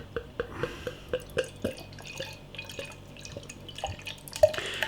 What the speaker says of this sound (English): We have got a jet black liquid pouring into the glass.